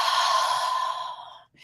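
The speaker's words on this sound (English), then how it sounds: "do those nice deep breaths" A single long, deep exhale, a breathy airy rush that fades out and is followed by the start of a soft new breath.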